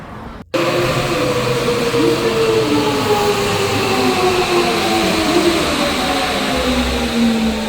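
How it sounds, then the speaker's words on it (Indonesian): A train ride toward Maruyama Koen in Hokkaido, Japan: after a brief quiet moment the carriage noise cuts in loud and steady, with a rolling rumble and rising and falling whining tones as the train moves. "naik kereta ke Maruyama Koen"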